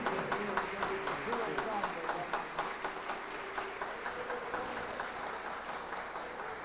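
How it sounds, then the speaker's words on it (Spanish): Applause from a church congregation welcoming a speaker, moderate and somewhat distant, with individual claps audible in an uneven rhythm and a voice faintly underneath. "Lo recibimos con un fuerte aplauso."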